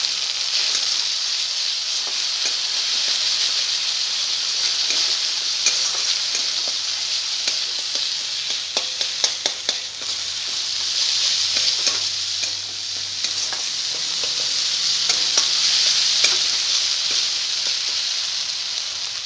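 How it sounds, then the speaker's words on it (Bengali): Spiced masala with salt and turmeric stir-fries in a pan for aloo dum, giving a steady close sizzle with scraping stirs and clicks throughout, no voices. "মশলা একটু লবণ, সামান্য হলুদ দিয়ে মশলাটা কষে নেব।"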